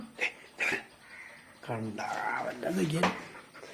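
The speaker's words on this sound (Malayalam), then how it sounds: "ഭ്രൂണ അങ്ങനെ ചെറിയൊരു പട്ടിയൊന്നല്ല" A dog barks a couple of short, sharp times, then a person talks over soft whimpering and yips.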